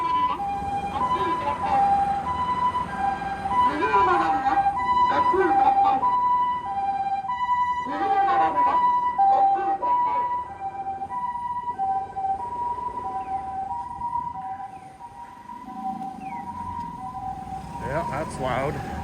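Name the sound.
ambulance siren in the street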